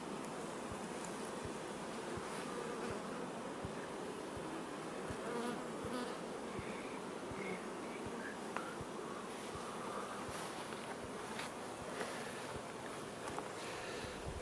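Honeybees hum steadily around an opened hive, a dense, continuous drone close by with faint wind, no voices.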